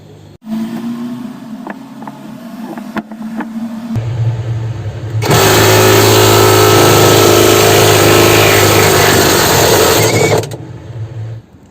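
A cordless iMax impact wrench with a 38 mm socket hammers loose the spin shaft nut of a washing machine, a loud, steady rattling burst lasting about five seconds after quieter handling noise and an idle hum.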